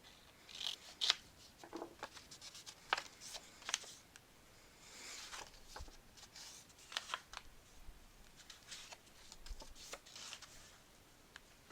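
Small scissors snipping paper to miter pocket corners for a craft album, a scattering of quick crisp cuts and light paper handling, quiet and close with no speech.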